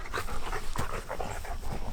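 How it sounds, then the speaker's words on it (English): Dogs panting and giving small whimpers close by indoors, a quick uneven rhythm of breathy pants with brief whiny vocal bursts, no talking. "The dogs are interrupting."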